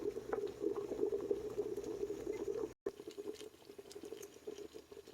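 Dewberry jam with pectin boils steadily in a pot, a close, continuous bubbling and popping that cuts out for a split second midway before resuming.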